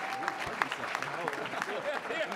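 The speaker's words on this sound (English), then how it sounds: "big round of applause" Audience at a university thesis championship applauding the champion winners, a steady crowd clapping that runs throughout, with voices mixed in underneath.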